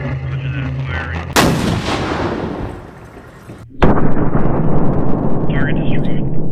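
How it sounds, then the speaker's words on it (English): A loud artillery firing sound effect: a sharp, thunderous blast that trails into a long rumbling decay, then a second heavy blast after a brief cutoff, both close and powerful. "Target acquired. Fireman ready. Roger that. Firing."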